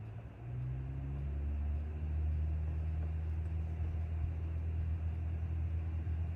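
A simulated aircraft engine in a flight simulator game throttles up for takeoff, a low droning rumble swelling slightly and holding steady, with tonal hum layered over a deep continuous engine bed.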